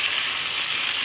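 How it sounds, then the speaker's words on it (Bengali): Water poured into a pan of fried spices and half-cooked potatoes gives a steady, bright hiss and sizzle, continuous and close for about a second with no voices. "এবার আমি এর মধ্যে একটু জল দিয়ে দেবো"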